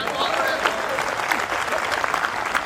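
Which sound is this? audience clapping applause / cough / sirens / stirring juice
audience clapping applause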